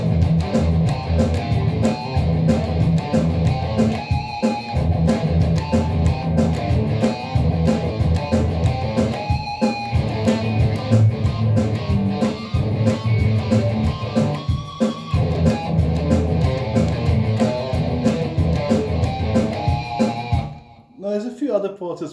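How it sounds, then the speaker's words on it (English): A retro 80s-style metal riff from Doom, played on guitar at 185 BPM over a backing track: fast, chugging, heavily distorted palm-muted notes, loud and continuous for about twenty seconds before stopping. "Let's get to learning how to play this really cool, really fun retro 80s style metal riff"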